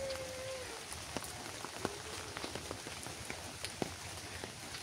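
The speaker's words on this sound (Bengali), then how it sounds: "এত বৃষ্টি" Light rain falls steadily outdoors, a soft hiss dotted with scattered sharp drips and taps, fairly faint, with a brief faint tone near the start.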